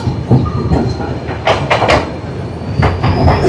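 The Mumbai Mail passenger train from Howrah rolls along loudly near the Uttar Pradesh–Madhya Pradesh border, with a constant wheel rumble, rail clatter and sharp squeals recurring throughout.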